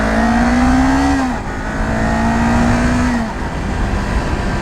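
A 2023 Kawasaki Ninja 400 two-cylinder motorcycle engine revs hard on a ride, a loud rising whine that drops at two gear shifts, with wind roar throughout and no talking.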